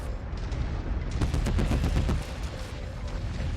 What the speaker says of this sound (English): We're going to get some LRMs on this dude.